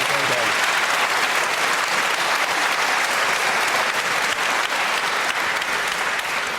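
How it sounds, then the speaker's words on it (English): Studio audience applause on a televised political debate panel, loud and sustained throughout, with dense steady clapping from a large crowd. "Unanimous applause"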